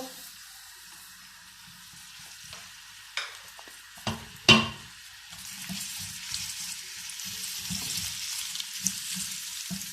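Sliced onions hit hot oil in a pan with a couple of sharp clatters, then settle into a steady soft sizzle of frying, close but fairly quiet.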